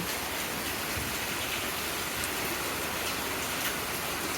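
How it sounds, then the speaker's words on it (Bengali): Heavy monsoon rain pours down in a steady, dense hiss that stays loud and unbroken throughout, with no voices. "গত কয়েকদিন ধরে খুব বেশি বৃষ্টি হচ্ছে"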